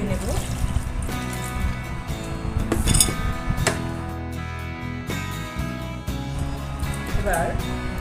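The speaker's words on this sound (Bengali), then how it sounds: "আমগুলোকে ফ্রেশ জল দিয়ে ধুয়ে নেব।" Green mangoes washed in fresh water in a bowl, with steady splashing, trickling and glassy clinks close by, under a voice talking throughout.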